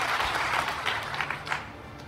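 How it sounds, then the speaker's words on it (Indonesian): A church congregation claps loudly during a sermon, a brief burst of crowd clapping that fades after a couple of seconds. "Tepuk tangan yang keras"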